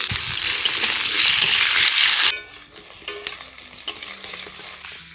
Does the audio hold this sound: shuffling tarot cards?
no